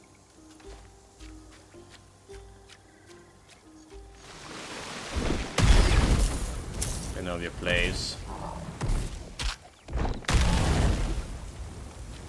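Heavy booming blasts from explosions in the video game Titan Quest 2 burst in repeatedly over a rumbling background, with a voice talking between them.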